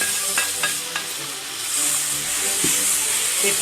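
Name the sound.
cooked beef frying in sautéed masala, Kerala style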